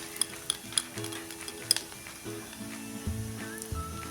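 Potatoes stirring and frying in a pan after chili powder is added for a cumin potato side dish, with soft sizzling under scattered sharp clicks and scrapes of a spoon against the pan, close and fairly quiet, no talking.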